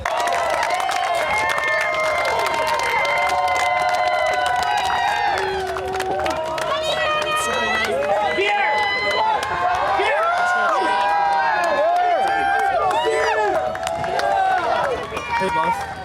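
A dense outdoor crowd at a political rally cheers and shouts continuously, loud and close, with overlapping voices and bursts of whooping that swell and stay high throughout.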